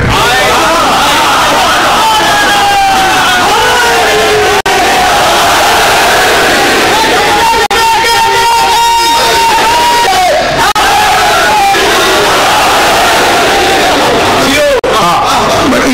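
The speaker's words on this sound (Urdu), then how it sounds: "نعرے" A large crowd at a Muharram majlis religious gathering chants slogans in loud unison, surging repeatedly over a constant roar of voices and shouts, with a preacher's voice carrying through the mix.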